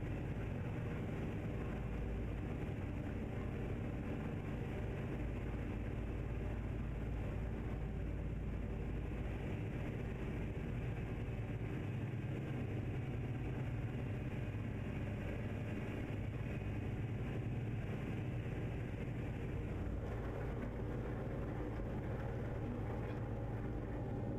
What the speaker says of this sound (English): I don't know why this one is so much louder than every other truck.